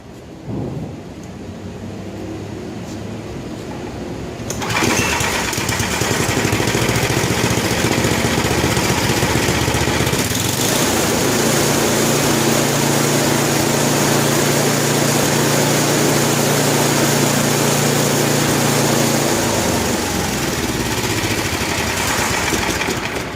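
A Murray two-stage snow blower engine starts up and runs loudly at a steady pitch, droning on continuously with a brief change in tone partway through.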